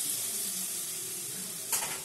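Masala paste with cashews sizzles steadily in a pan as a little water is added, a brief sharper hiss flaring near the end; no talk.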